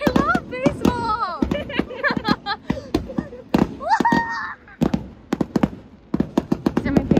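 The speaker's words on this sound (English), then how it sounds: "These are my favorite kind of fireworks. They just look like sparkles." Sparkling fireworks pop and crackle over a Japanese baseball game, a string of sharp bursts scattered through the clip while a person talks excitedly close by.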